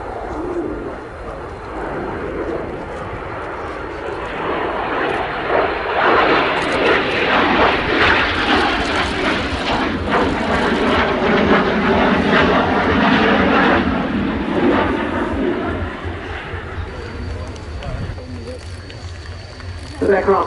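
A Messerschmitt aircraft flying at the Royal International Air Tattoo at RAF Fairford, its engine roar swelling loud as it passes and then fading, with a commentator's voice and birdsong nearby.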